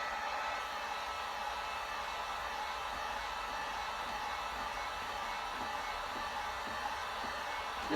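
A heat gun blowing hot air into the inside of a foam boot cover, a steady, even whooshing hiss of fan and airflow that holds constant throughout, close and alone.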